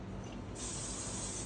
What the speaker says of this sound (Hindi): हेयर स्प्रे करेंगे बैक साइड में भी,